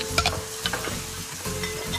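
Onions and tomato puree roasting in a tray at home, with a steady low sizzle under clinks and scrapes of stirring and several short bright knocks.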